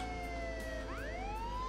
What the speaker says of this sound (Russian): это надо выключить сирену